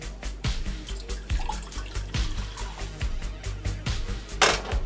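Tap water runs steadily into a cooking pot in a home kitchen, two cups measured out for instant noodles, with close splashing and a few clinks of the pot.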